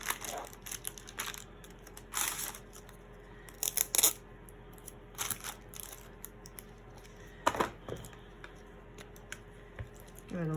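Scissors handled while making a trashy-style paper journal, with scattered close snips and clicks mixed with paper crinkling and tearing, in irregular bursts against a quiet room hum, with no talking.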